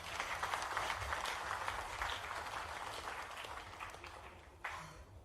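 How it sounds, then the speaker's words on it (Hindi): Audience applause at a Delhi event on textile-sector investment, a dense wash of clapping that holds steady for about five seconds, then thins and tapers near the end. "शुभ शुभ के लिए ताली बजा दें।"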